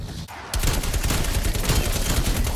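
Rapid submachine-gun fire in Call of Duty: Cold War: after a brief quiet start, a loud, dense, unbroken burst of high-rate shots with crackling impacts runs to the end.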